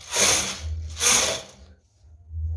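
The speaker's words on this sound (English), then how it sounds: "So pack the empty needle back to work, and I'm going to knit 2 rows." A knitting machine carriage pushed across the needle bed to knit rows, two loud whooshing mechanical sweeps with a ratcheting rattle, then a brief pause before another pass begins.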